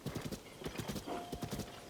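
A horse's hooves clip-clop in Zelda: Tears of the Kingdom while it pulls a load, a quick, steady run of soft thuds and clacks with a faint mechanical whine under them, no voices.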